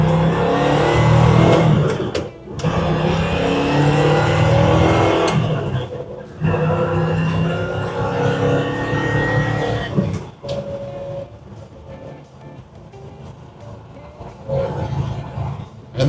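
A 1966 Chevrolet Chevy II Super Sport L79 with a Muncie four-speed shifter drives along. Its engine rumbles loudly and up close, revving and pulling through the gears with a shift break about midway.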